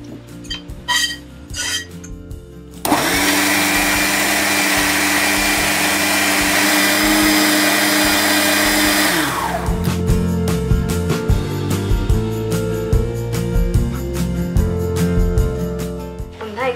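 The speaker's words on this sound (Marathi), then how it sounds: "वाटण आपण थोडं पाणी घालायचं याच्यात आणि हे वाटून घ्यायचंय" A mixer grinder whirs loudly, pulverizing masala paste with added water for a prawn curry; a few clinks of kitchen utensils come first, then a sustained whine of roughly six seconds before it cuts off and the clatter of pans returns.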